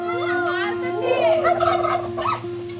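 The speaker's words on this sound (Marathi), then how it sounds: "काय टर्की आहे? कसं ओरडतो?" A turkey gobbles loudly and close by, a rapid warbling call repeated a few times, with faint children's voices in the background.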